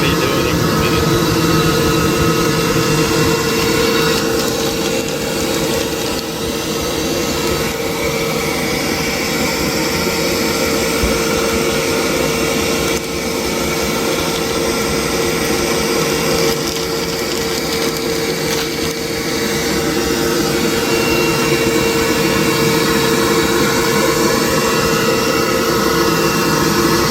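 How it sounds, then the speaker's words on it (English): An AttiCat blown-in insulation machine runs steadily, a loud, constant whirring roar of motor and blower with a droning tone that holds for almost half a minute without pause. "let you squeeze the insulation out of the bag into the machine"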